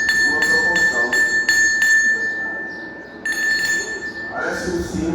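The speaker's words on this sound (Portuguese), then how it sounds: "Parece um sino que é feito do mesmo material do sino. Chama-se almofariz." A metal mortar made of bell metal is struck repeatedly and rings like a bell. Several quick clear strikes are followed by a lingering tone, then a few more, with people talking faintly underneath.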